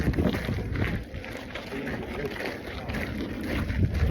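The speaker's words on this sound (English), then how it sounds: "It's super windy out." Strong wind gusting over the microphone at Horseshoe Bend, an open canyon overlook reached by a short trail from a parking lot, a steady low rumbling roar that swells and buffets throughout without a break.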